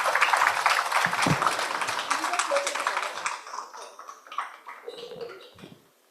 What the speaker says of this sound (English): Can we have a huge round of applause for the panel?